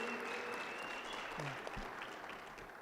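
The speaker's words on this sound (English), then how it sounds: "Let's give AddProp a round of applause." Quieter applause at a real estate roadshow event honouring AddProp, a crowd clapping steadily at moderate distance, with a brief voice cutting through midway.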